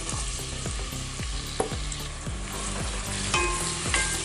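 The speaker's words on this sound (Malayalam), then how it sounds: "നന്നായി ചൂടായതിനു ശേഷം നമ്മൾക്ക് ഇതിലേക്ക് വലിയ ഉള്ളി ഇട്ട് കൊടുക്കാം." Chopped large onions, about 100 grams, sizzle steadily in hot oil in a pan for a meatless biryani, with repeated stirring scrapes across the crackle and no talking.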